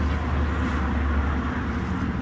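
A steady, loud mechanical roar of a pellet grill's fan and burn pot fire, continuous and unchanging, with a deep low rumble throughout.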